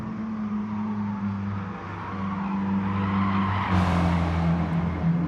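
A Mitsubishi Lancer Evolution racing at Kyoto Driving Park in GT Sport, a steady engine drone with tires squealing through the curves, rising slightly near the end.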